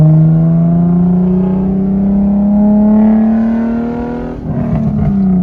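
A Nissan 350Z roadster with a full straight-through exhaust revs loudly and close in a parking lot, its engine note climbing steadily before dropping with a rough burble as other cars circle nearby.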